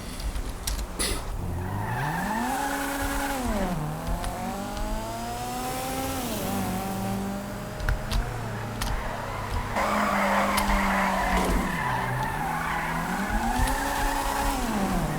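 A Fiat Tipo drifts in GTA 5, its engine note rising and falling in long sweeping revs while the tires squeal and skid continuously and loudly throughout.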